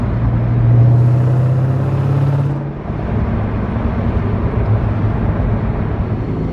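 A supercharged 2003 Ford Mustang SVT engine drones loudly and steadily as boost builds under throttle, with a rising rumble near the start that eases off, then a continuous close cabin roar with no talking.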